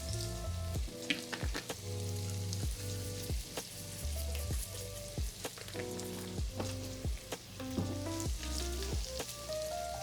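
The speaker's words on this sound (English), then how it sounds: "you can hear my sausage sizzling probably" Sausage with poultry seasoning and crushed red pepper sizzles in a pan for keto biscuits and gravy, a steady close frying crackle with repeated sharp pops and clinks throughout.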